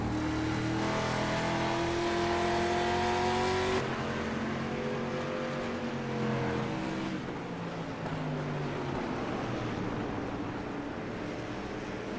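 Street stock race cars at Stafford Motor Speedway roar steadily with sustained engine drone and shifting pitch as several cars pass, a loud continuous track sound with no one talking over it.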